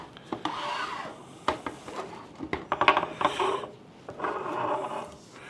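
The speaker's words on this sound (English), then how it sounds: "we're going to pull the rotor out. We're going to do it from the back side." A rotor is pulled out from the back of a disassembled regenerative vacuum pump with an induction motor, giving close, faint metallic scraping, rubbing and clicking in irregular bursts, with no voices.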